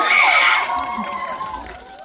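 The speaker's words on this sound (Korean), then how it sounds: "박수 부탁드릴게요" A film screening audience cheers and shouts for the arriving actors, a bright burst of excited voices and whoops that fades quickly over about two seconds.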